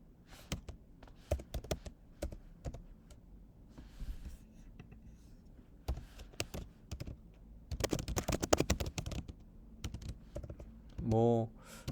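Fingers type code on a computer keyboard in quick, irregular bursts of close clicks and taps, with short pauses between bursts and a brief louder clatter near the end.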